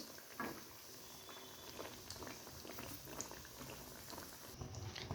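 Pitha dough deep-frying in gently heated oil, giving a steady, close bubbling sizzle with small crackles throughout, no voices over it.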